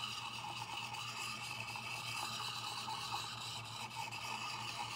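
A steel gouge chisel rubs back and forth against a sharpening stone, giving a continuous close gritty scraping with a faint underlying whir and no voices.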